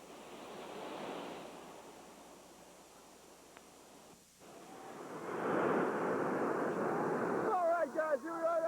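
Whitewater rapids on the Ocoee River roar in a steady broad rush that fades, dips, then swells louder again. Wind buffets the microphone, and a faint tonal warble comes near the end.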